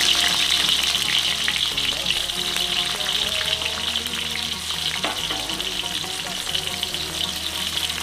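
Ginger and onion sizzle in hot oil in a pan while cooking a kaci fish dish in soy sauce, a loud, steady frying hiss throughout with a faint voice underneath.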